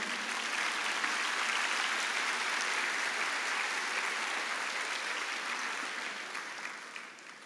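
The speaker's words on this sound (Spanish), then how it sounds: "Dale un aplauso a Él." A crowd applauds steadily for several seconds, a dense wash of clapping that slowly fades toward the end.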